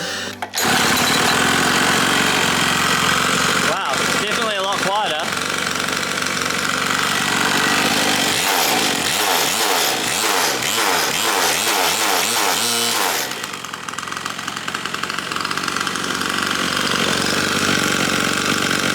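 A small 50cc kart engine on a dyno runs continuously at a steady buzzing idle, its pitch rising and falling in a few quick revving bursts partway through.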